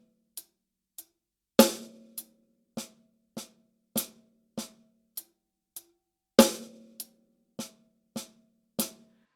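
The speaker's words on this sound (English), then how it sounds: "We're going to place our right hand on the hi-hat and our left hand on the snare drum." Sparse drum hits in a steady pattern: short crisp hi-hat taps alternating with two heavier, ringing snare strikes, played alone at a moderate tempo.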